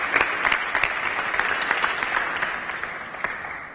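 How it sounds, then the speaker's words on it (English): Sustained applause from a seated audience at an annual St. Louis business lunch meeting, honoring the restaurant Pasta House and its servers; steady, dense clapping fills the room throughout and slowly fades toward the end. "let's give a round of applause to Pasta House and all of our servers here today"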